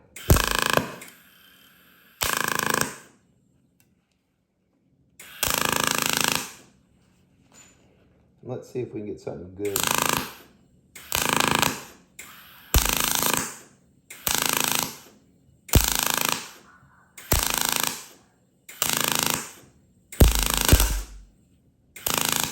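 A Miller 255 push-pull welder lays short tack welds on aluminum plate from 20 gauge to half-inch, with about a dozen crackling, buzzing bursts of a second or so each, separated by brief pauses. A voice speaks near the start.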